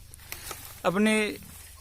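A single short, nasal bleat rises above the quiet background at a goat farm in Assam, close and fairly loud.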